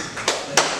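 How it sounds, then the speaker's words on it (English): A single sharp clap from an audience in a lecture room, a short bright burst standing out against quiet room tone. "if you can hear me, one clap"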